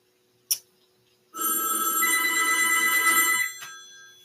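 A phone rings during a podcast recording: a brief chirp, then a loud continuous electronic ring lasting about two seconds in a quiet room, followed by a short click.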